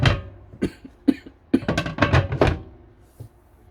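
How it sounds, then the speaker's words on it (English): Several short, harsh coughs in a cluster, close to the microphone, with a few scattered bursts before and after. "Sorry, got a bit of a cough."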